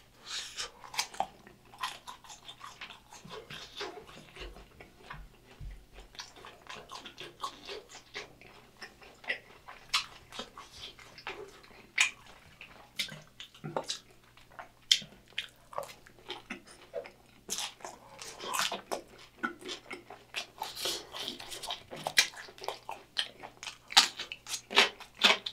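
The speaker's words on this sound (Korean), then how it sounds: "탕수육도 한번 먹어볼게요." Someone close by eats crunchy Korean sweet and sour pork (tangsuyuk), making irregular crisp bites and steady chewing that go on and on without talk, soft but clear.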